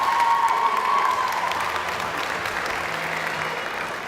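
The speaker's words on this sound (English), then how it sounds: "Please give a big round of applause one more time for Savannah." Sustained audience applause at a 2018 student awards ceremony, steady and full for about four seconds with no talk over it, tapering only slightly toward the end.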